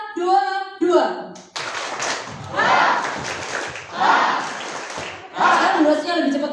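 A youth church service group claps faster on command in a hall, dense bursts of many hands arriving in waves after a leader's voice, loud and close with crowd noise mixed in.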